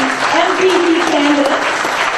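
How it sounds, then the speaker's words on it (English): A room full of guests applauds at a campaign fundraising dinner, a steady dense wash of clapping throughout while a voice speaks over it. "introducing one more round of applause for your Scarborough"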